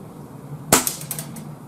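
A Retay T20 air rifle fires a single pellet: one sharp, close crack followed by a brief metallic ring and a few faint ticks, alone without talk.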